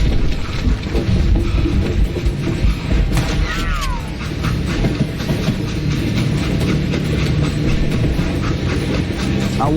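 Moving train in the Western video game Call of Juarez: Gunslinger, a steady loud rumble of rolling wagons with wind noise running throughout, and a brief higher squeal near the middle.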